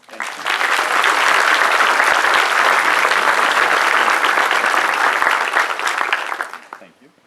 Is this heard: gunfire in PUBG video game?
no